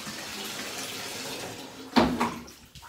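Water runs steadily from a tap into a basin filling a dog's bath, a continuous hiss, then a sudden louder splash and gurgle near the end.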